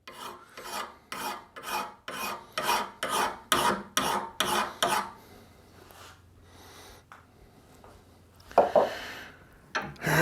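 A hand file rasps along a Kubota Z412 mower blade in about a dozen steady, rhythmic strokes, close and moderately loud, followed by quieter scraping and handling sounds.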